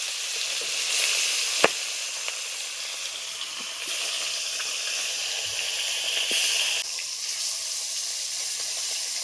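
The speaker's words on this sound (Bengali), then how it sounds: "এখন আমি মাছগুলো ভেজে নেব" Pieces of rohu fish sizzle in hot oil in a kadai over a clay stove, a steady close hiss with a few sharp pops and crackles throughout.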